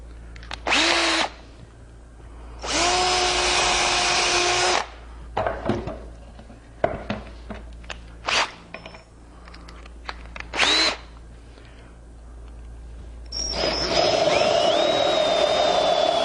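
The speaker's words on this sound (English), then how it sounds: "take my small bit, drill on through, and it'll mark the backside" A power drill whirs in several bursts, boring through wood with a small bit for a five-board bench, with clicks and clatter between runs and a longer spin at the end.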